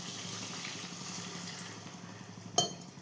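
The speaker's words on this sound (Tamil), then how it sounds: "நமக்கு எவ்வளோ தேவையோ அது தண்ணி ஊற்றிக்கலாம்." Soft, steady splashing of water poured into a pot, continuous and fairly quiet, ending with a brief metallic clink.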